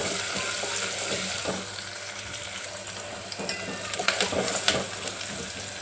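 Sliced onion and garlic cloves fry in oil in a pan, a steady close sizzle with occasional stirring scrapes.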